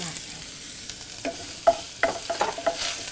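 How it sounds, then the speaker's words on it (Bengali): Minced garlic, two tablespoons, frying in soybean oil in a pan, with a steady sizzle and intermittent stirring scrapes that grow louder toward the end; no voices. "এখন এখানে আমরা রসুন দিব দুই টেবিল স্পুন পরিমাণ রসুন কুচি"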